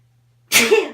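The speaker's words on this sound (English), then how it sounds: "Might sneeze." A single sharp human sneeze bursts out after a near-silent pause, loud and close, with a brief trailing vocal tail.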